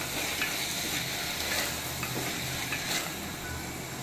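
Beetroot frying in oil is stirred in a pan, a dense continuous sizzle with soft scraping strokes recurring throughout at close range.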